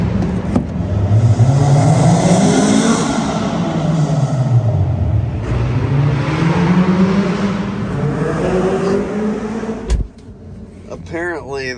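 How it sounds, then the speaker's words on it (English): Loud cars rev and accelerate inside a parking garage, the engine pitch rising and falling in long sweeps with a booming echo. The roar cuts off sharply near the end, and voices can be heard. "There's a bunch of loud cars here."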